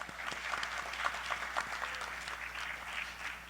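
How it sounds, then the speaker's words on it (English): Moderately faint applause at a national poetry slam finals, a continuous patter of clapping hands from the audience with scattered sharper claps. "another clap for that"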